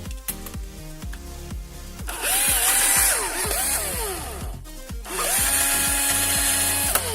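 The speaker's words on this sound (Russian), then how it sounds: "Сверлом." Power drill working on a brake tube during a flaring repair, whining in repeated bursts that start and stop, with pitch rising and falling as the bit loads and frees, loud and close with no talking.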